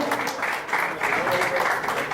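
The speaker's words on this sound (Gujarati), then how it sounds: "આપણે જોરદાર તાળીના ગણગણાટ દ્વારા આ ધન્ય કરીને વધાવીએ છીએ." Steady applause from a crowd at a foundation's medical camp event, a dense, continuous wash of clapping running throughout, with a voice speaking over it.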